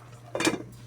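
A lid set onto a cooking pot of sinigang na salay-salay after sweet potato tops go in, a single close clink and rattle of metal lasting about a quarter second over a low steady hum.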